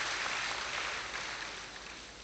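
Applause from an audience at a Nigerian university lecture honouring the Vice Chancellor: a dense, steady wash of many hands clapping together in a large hall, tapering off slightly toward the end.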